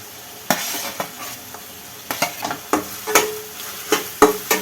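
Onions, green chilli, ginger and garlic fry in oil for shahi paneer while a spoon stirs them, making repeated scraping clinks against the pan over a low sizzle.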